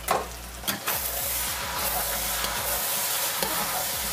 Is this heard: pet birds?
no